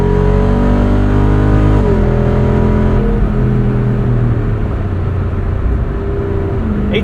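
The 6.4 liter HEMI V8 of a 2024 Jeep Wrangler Rubicon 392 revs hard and close, its deep growl rising and shifting pitch as it accelerates, loud and steady throughout with no voices.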